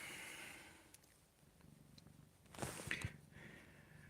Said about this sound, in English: Get a little purr here with Max going.